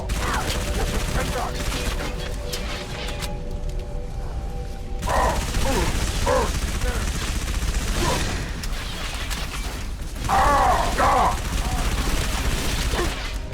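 Gunfire in the video game Halo 3 ODST as enemies are shot down, with bursts of rapid shots and impacts over steady game background noise, fairly loud throughout.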